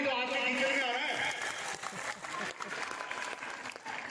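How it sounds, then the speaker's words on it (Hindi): Applause from a largely women's audience at a joint annual school function in Mandrela, India; a short burst of steady clapping fills the opening second and then thins into scattered claps as a voice speaks over the crowd. "ताली बजाओ बहनों"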